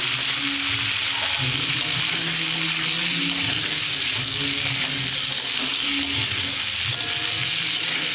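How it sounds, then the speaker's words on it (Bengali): Potatoes and carrots fry with turmeric and salt in a pan, giving a steady, close sizzle throughout with scattered crackles and no voices. "আর হলুদ লবণ দিয়ে ভেজে নেব ভালো করে।"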